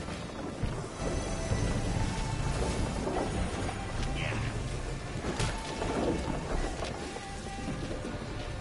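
Thunderstorm with rain in the video game Thronebreaker, a steady low rumble of thunder under a constant wash of rainfall, faint and even throughout.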